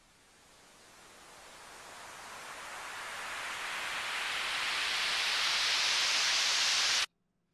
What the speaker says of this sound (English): this white noise that happens here,